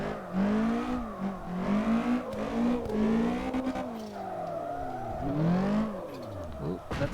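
Car drifting in the CarX racing game, driven with a steering wheel: a steady engine drone that rises and falls with revs while tires hiss and squeal through sliding turns, loud and continuous, with no speech.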